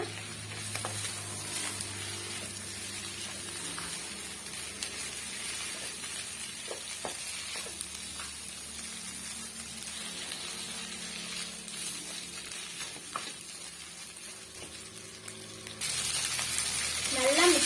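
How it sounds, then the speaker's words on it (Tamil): Boiled pasta mixed into a hot pan over a high flame for a restaurant-style dish, making a steady, soft sizzle with occasional stirring scrapes and a louder hissing surge near the end. "இப்போ நம்ம வேக வச்சு எடுத்த இந்த பாஸ்தாவை நம்ம அதில் சேர்த்துடலாம் இங்கே பாருங்கள் சேர்த்து நல்லா மிக்ஸ் பண்ணிவிடுங்க"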